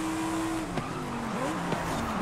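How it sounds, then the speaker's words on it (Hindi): Lamborghini Huracan Performante in a three-lap circuit race in the video game Forza Horizon 5: a steady engine whine with sliding pitch, plus sharp tire squeals and brief skids through the turns. "गाड़ियों की आवाज़ आ रही है हमें।"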